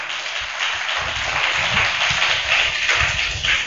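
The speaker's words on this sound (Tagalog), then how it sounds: "Mahina ang palakpak." Worshippers applauding during a Filipino church sermon, a steady, moderately loud wash of many hands clapping that runs continuously without a clear peak or fade.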